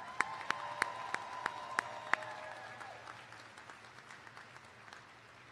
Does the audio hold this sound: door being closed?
no